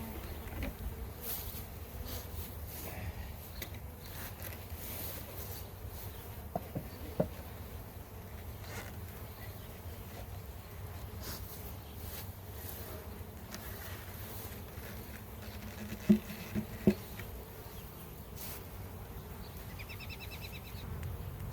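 Honeybees buzzing around open hives during a hive inspection, a steady, faint, continuous hum with a few small knocks and clicks scattered through, no talking.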